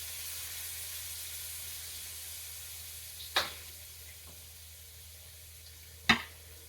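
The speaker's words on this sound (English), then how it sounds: "our heat is nice and hot, we are gonna be warming our shrimp for about a minute" Shrimp warming in a hot pan give off a faint, steady sizzle and hiss, broken by two sharp clanks of a utensil striking the pan.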